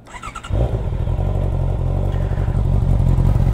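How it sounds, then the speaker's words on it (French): A Honda CB650R motorcycle engine kicks in and revs with a deep, rumbling roar that holds loud and close, rising slightly toward the end. "peut-être que vous vouliez que je teste le son du coup de la moto"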